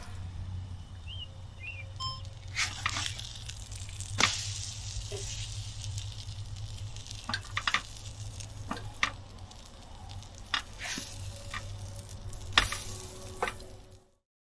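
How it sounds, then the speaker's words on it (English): Bread dipped in a mixture frying on a griddle at a campsite, a soft steady sizzle with scattered sharp clicks and scrapes, faint birds in the background, fairly quiet. "After dipping the bread into the mixture, everything went onto the griddle until perfectly golden brown."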